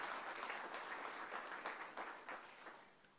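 An audience at an outdoor education award ceremony in a museum garden applauds a winner, a dense, fairly distant burst of clapping that swells briefly and then fades toward the end.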